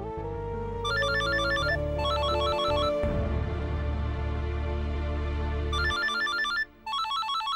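A telephone rings with a loud electronic ringtone, repeating in bursts of a tinkling melody over a steady tone, continuing for several seconds alone.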